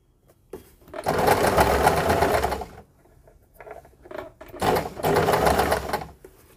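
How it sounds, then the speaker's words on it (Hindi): Domestic sewing machine stitching a shirt collar onto the garment, running in two steady bursts of about two seconds each with a short pause between, close and fairly loud with no talk. "तो मैं इस पर सिलाई लगा लेती हूँ।"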